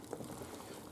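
Water is poured off a pot of freshly boiled chestnuts, a short steady splashing pour close by with no speech.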